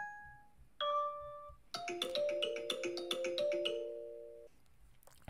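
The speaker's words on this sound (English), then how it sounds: "Or the notification. This is the default iOS for your phone." Default iOS phone notification chime: a couple of soft bell-like tones followed by a brighter, quick cascade of chiming notes, clean and close with no other sound.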